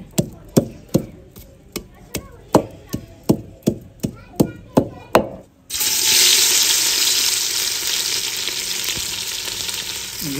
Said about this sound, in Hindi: घी को तड़का लग चुका है,